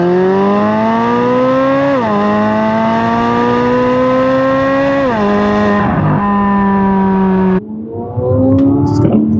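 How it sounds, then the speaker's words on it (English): 2024 Corvette C8 Z06 flat-plane-crank engine and exhaust accelerating hard, a loud, close, high-pitched wail climbing through two upshifts before easing off, then a brief rougher burst. "listen to that flat plane crank engine."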